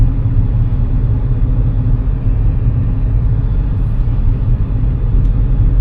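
A manual car driving along just after a shift into second gear during a beginner driving lesson, with a steady, loud low engine and road rumble continuing throughout.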